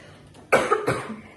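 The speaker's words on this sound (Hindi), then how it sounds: "सबको खांसी हो रखी है" Two harsh coughs from someone sick, one at about half a second and another shortly after, close and loud in a quiet home kitchen while cooking goes on.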